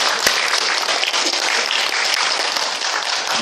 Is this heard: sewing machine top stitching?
no